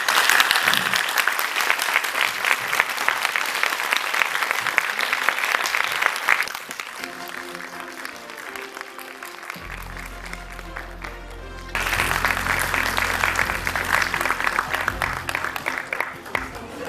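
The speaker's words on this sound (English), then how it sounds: "Let us all welcome him with a huge round of applause." An audience at an INIFD Deccan Pune event applauds to welcome fashion stylist Imam Siddique, loud sustained clapping lasting the whole stretch, with background music joining partway through as the applause continues.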